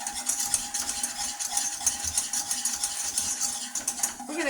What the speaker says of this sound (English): we're just going to whisk that up